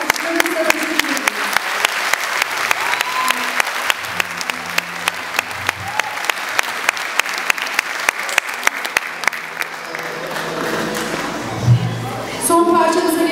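A concert audience at a Turkish folk music performance claps steadily in sustained applause that tapers off near the end, with a few voices and stray sounds under the clapping.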